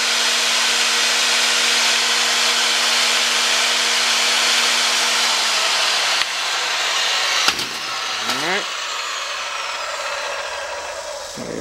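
A pipe threading machine cuts threads on black steel pipe with a loud, steady whirring grind, then winds down partway through and leaves a few sharp clanks and scrapes over a lower running hum.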